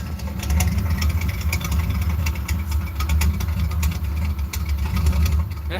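A Mach One car engine drones steadily while driving, a loud continuous low hum with a constant tone and no clear revving, close and filling the whole stretch.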